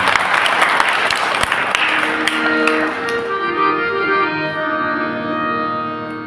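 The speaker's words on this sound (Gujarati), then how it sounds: "તો એક વખત દરેક ગ્રુપને આપણે તાળીઓના ગડગડાટથી વધારે" A crowd at a religious gathering breaks into loud, dense applause that peaks early and then slowly thins and fades, with some musical tones rising underneath as the clapping trails off.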